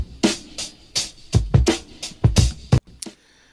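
A drum break plays as a dry, punchy kick-and-snare pattern with a few sharp hits and an uneven groove, loud and close, ending in a faint tail.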